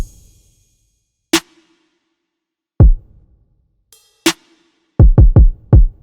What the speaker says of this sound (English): let's listen to the crash and the kick solo to show you how it creates a sexy